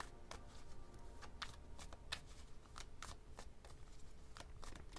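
Tarot cards riffled and shuffled by hand in a repeated run of crisp, close flicks and snaps, with no talking.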